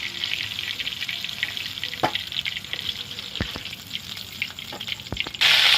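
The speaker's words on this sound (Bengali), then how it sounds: "তারপরে মাছগুলো আমি ভেজে নিচ্ছি।" Fish pieces frying lightly in hot oil for a Bengali rui basanti dish, giving a steady soft sizzle with a few sharp utensil clicks, close and fairly quiet, with no talking.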